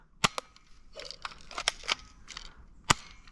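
A cheap toy airsoft gun fires a string of sharp snapping shots, some in quick pairs and others spaced apart, with small rattles and clicks between them at close range.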